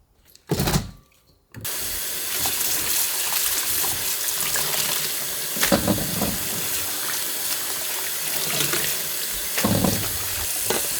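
Tap water running steadily into a sink while salted napa cabbage is rinsed, a loud continuous splashing rush after a brief opening burst.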